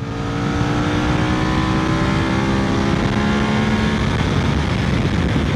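A QJ motorcycle engine roars steadily and revs, with rising and falling pitch and heavy low rumble throughout, no voices.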